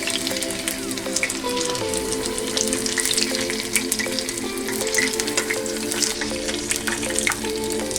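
Chicken 65 fries in oil on a medium flame, making a dense, continuous sizzle with scattered sharp crackles and pops, close and steady throughout.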